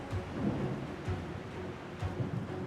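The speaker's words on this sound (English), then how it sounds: "This is a crazy storm we're in, though." Thunderstorm with heavy rain and rolling thunder, a dense steady downpour with repeated low rumbles, loud and without voices.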